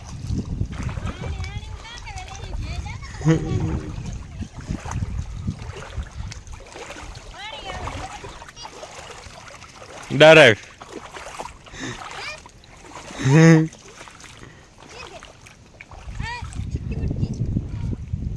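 Water sloshes and splashes as someone wades through a flooded river spilling over farm fields, with two louder splashes midway and steady wind and water noise beneath near, continuous talking.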